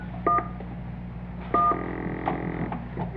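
Telephone keypad tones sound while dialing 911: a few short, clear beeps, with a longer dial tone burst in between, heard alone and close.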